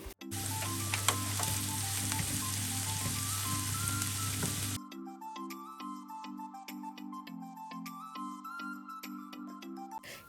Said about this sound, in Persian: بعد پیاز رو اضافه میکنیم و تفت میدیم تا سبک و کمی طلایی بشه